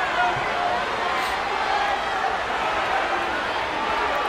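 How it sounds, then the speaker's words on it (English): Crowd noise from a WWE 2K wrestling match, a Lights Out match, as a steady broadband roar of cheering that holds evenly through the stretch, with a voice talking over it. "Man, this crowd cannot believe it."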